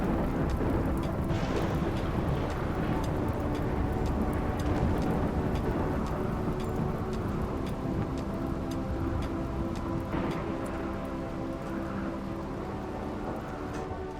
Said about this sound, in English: Rainy thunderstorm.